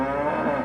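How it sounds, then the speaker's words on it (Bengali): Cartoon cows lowing in a barn setting, a single sustained, loud, close moo-like tone held for under a second with no talk over it. "ওহ, এই গরুগুলো এত ডাকছে কেন?"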